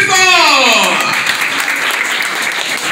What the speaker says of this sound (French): Je vous demande d'applaudir chaudement Monsieur Samuel Noël.